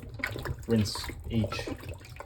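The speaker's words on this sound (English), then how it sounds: "fill up the sink with water and keep them in water like this" Water sloshing in a filled kitchen sink as peppers are washed by hand, with a few soft splashes and gurgles, close up.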